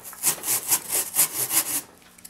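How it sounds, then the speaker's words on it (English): A hand wood rasp works a wooden musket butt on a fowler, shaping an indentation in about six rhythmic back-and-forth scraping strokes, close and moderately loud, with no talking. "it's a wood rasp"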